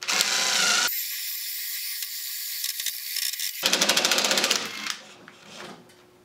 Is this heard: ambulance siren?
no